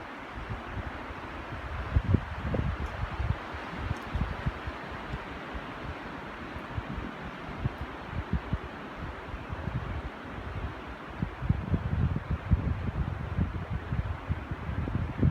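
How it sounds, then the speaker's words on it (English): Wind blows through woodland leaves in a steady rushing hiss, with low rumbling gusts catching the microphone now and then, stronger toward the end. "Still quite windy."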